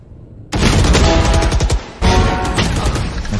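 Rapid gunfire in the video game Valorant, two loud bursts of sustained automatic shots close up, the second starting after a short dip, with no talk over it.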